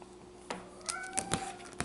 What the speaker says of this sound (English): We got cats, that's what you're hearing